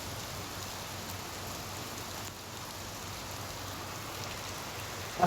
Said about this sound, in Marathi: खूप पाऊस पडतोय, हे बघा पाऊस असतं.